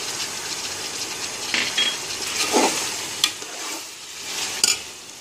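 Ginger and garlic stir-fried in a pan, with a steady sizzle and scraping stirs, a few louder knocks of the utensil against the pan, and no talking.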